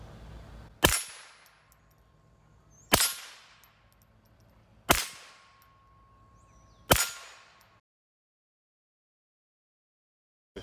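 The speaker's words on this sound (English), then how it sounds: "this is the Ruger 1022 Taxol barrel with the barrel shroud, unsuppressed with the 36 grain high velocity hollow point" Four sharp, loud gunshots from an unsuppressed Ruger 10/22 rifle with a Tactical Solutions barrel and shroud, firing 36-grain high-velocity hollow points, evenly spaced about two seconds apart with short ringing decays, then silence.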